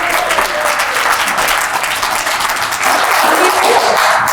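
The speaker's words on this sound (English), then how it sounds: "Let's give her a round of applause." A crowd applauds warmly for a speaker at a career talk, a dense, even wash of clapping that holds steady throughout without any voices on top.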